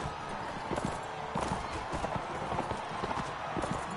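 Horse hooves in the video game Mount and Blade, rapid clip-clop beats from galloping horses, continuous and fairly close, with a voice talking over them.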